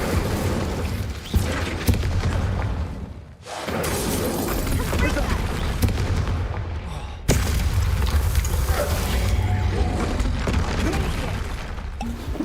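Repeated heavy booming blasts and crashing bursts from Confringo fire spells in Hogwarts Legacy, one loud wash of game combat noise with a short dip midway and then another sharp onset.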